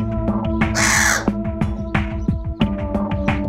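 A loud, harsh bird call rings out close by, raucous squawks over a rhythmic, plucked background music bed.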